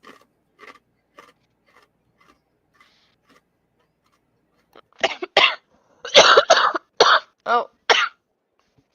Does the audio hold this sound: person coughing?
yes